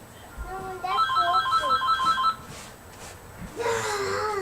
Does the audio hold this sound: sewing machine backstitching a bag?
no